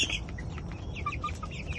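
Chickens clucking inside a coop shared with turkeys, steady overlapping clucks and chirps at close range with constant low rumble beneath, no talk.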